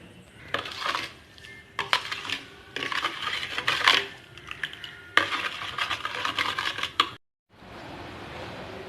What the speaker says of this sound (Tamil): நம்ம ஒரு ஸ்பூன் வச்சு மிக்ஸ் பண்ணிக்கலாம்.